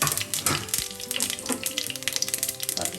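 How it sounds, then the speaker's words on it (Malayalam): Mustard seeds crackle and splutter in hot coconut oil for a spinach thoran tempering, a dense close sizzle with rapid popping bursts throughout. "വെളിച്ചെണ്ണ ചൂടായിട്ടുണ്ട്. നമുക്ക് 1/2 ടീസ്പൂൺ കടുകിട്ട് പൊട്ടിക്കാം."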